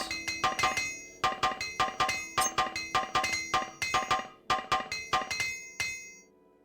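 In the video game Morrowind, a repair hammer strikes in quick sequences of bright, metallic clinking taps. The blows are grouped in a steady rhythm, loud and close, with no talking.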